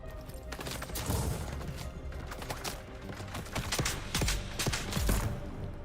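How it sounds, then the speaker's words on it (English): Automated mentat turret in the video game Dune Awakening firing rapid bursts of gunfire, sharp repeated shots cracking over a busy background of game sound effects. "So I might just go ahead and use my turret here, my mentat turret."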